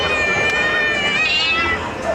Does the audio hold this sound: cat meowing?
yes